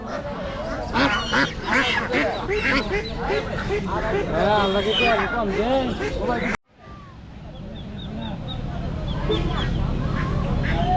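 Ducks quack repeatedly amid other poultry at a busy village duck and chicken market, close and loud, with people talking over them throughout.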